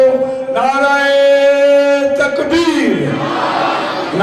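A loud, close chorus of many voices answers a religious slogan at a devotional gathering, rising in a sustained, unified chant, then breaking off into a rougher, overlapping shout.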